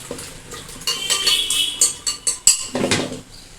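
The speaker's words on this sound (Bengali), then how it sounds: "এটাকে একটু হাত দিয়ে ভালো করে আমি একটু নাড়াচাড়া করে দিলাম।" Chunks of raw jackfruit are mixed by hand with water and turmeric in a bowl, giving close, wet squelches and soft clacks in a quick run of short bursts.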